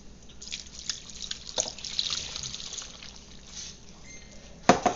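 Two cups of water trickle and drip steadily into a pot, a soft continuous splashing that ends with a brief louder clatter.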